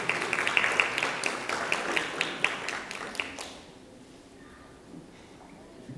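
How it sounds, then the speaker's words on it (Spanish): Audience applause welcoming a vice dean at an engineering education panel, a dense patter of claps for about three and a half seconds that then fades out to a quiet room. "Por favor, con un aplauso, démosle la bienvenida al vicedecano encargado"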